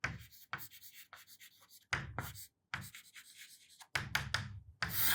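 Chalk or marker scratches and taps on a lecture board in quick strokes and short bursts separated by brief pauses, close and fairly quiet.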